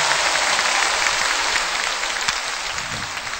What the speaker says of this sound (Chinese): 来，再次掌声。